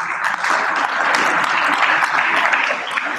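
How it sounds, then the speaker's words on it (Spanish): An audience at a political event in Durango gives a sustained round of clapping for a sponsor, loud and even across the whole stretch, with faint crowd murmur beneath. "Yo les pido también un aplauso para Telmex."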